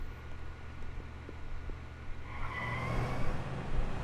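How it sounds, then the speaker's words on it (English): Military trucks in Xenoblade Chronicles X rumble low at first, then a vehicle revs and surges closer with rising engine noise and hiss toward the end. "And now I got preschoolers driving military trucks."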